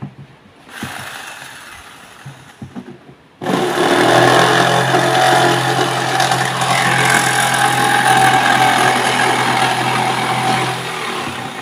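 A power saw cuts a sheet of 5-ply, 6 mm plywood along a traced template for a boomerang. It starts abruptly after a few seconds of quiet handling and then drones loud and steady to the end.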